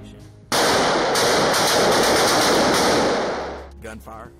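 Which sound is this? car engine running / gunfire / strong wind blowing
gunfire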